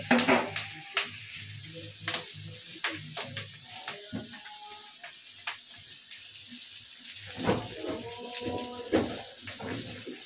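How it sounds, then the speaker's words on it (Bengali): Food frying in a pan gives a steady sizzle broken by irregular clattering stirs and scrapes, with a faint voice briefly in the background. "একটু ভাজা ভাজা হোক।"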